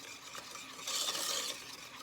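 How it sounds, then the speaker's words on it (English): Egg and sugar for a custard are stirred and whisked together in a bowl, giving a steady scraping swish that grows louder in the middle, close by, with no talking. "now mix it all together really nicely"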